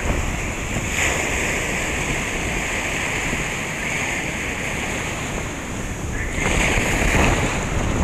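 Steady wind buffeting an open shoreline while fishing, a loud continuous rush mixed with surf and microphone buffeting, swelling slightly near the end.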